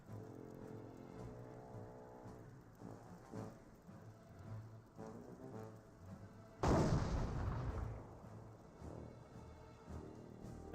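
Butterfly bombs burst in the World War II strategy game Company of Heroes, muffled crackling explosions rumbling at moderate volume, with one loud, sustained blast erupting partway through.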